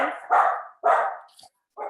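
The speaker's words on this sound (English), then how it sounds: "There's my doggy." Pet dog barking at home, two loud close barks in quick succession followed by a shorter third bark, no talking.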